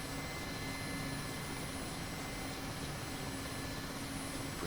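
Mi-24 Hind helicopters lift off in DCS World, a dense, even turbine and rotor roar with a steady whine, unbroken and constant throughout.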